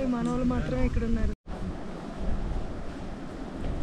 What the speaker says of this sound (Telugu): Can you guys listen the water fall sound?